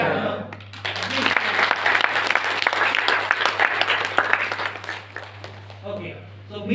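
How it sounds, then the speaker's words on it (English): Audience applause fills a seminar hall, a steady sustained clapping from many hands that swells and then tapers off toward the end. "Please clap."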